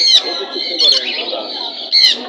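Pigeons at a busy bird market in Mirpur, Bangladesh, with squawking and cooing calls that repeat and overlap. Two sharper bursts stand out against a steady murmur of birds and crowd.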